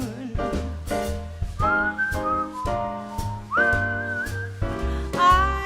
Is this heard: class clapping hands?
no